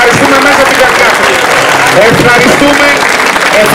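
Applause from a crowd at a municipal election campaign speech in Heraklion, loud and continuous, with a voice heard over the clapping.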